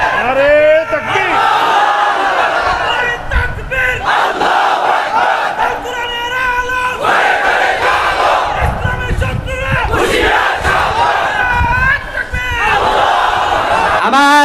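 A large religious gathering chants the takbir in loud collective shouts, repeated waves of massed voices rising and falling close by across the whole stretch.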